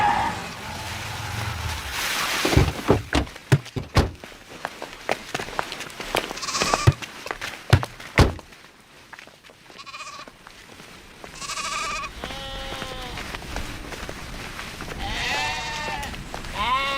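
Goats bleat in a movie scene set around a goat theft, with several wavering calls repeating in the second half after a stretch of clattering, busy background noise, no talk over them.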